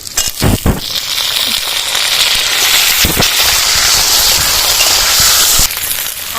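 Pieces of drumstick vegetable (sajna data) drop into a hot pan of frying bata fish in oil, setting off a loud, steady crackling sizzle that runs almost the whole time, with a few sharp bursts near the start.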